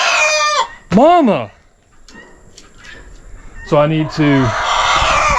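Chickens cluck and a rooster crows loudly up close inside a cluttered homestead shop, with squawks trailing off before more crowing, while someone talks between the calls.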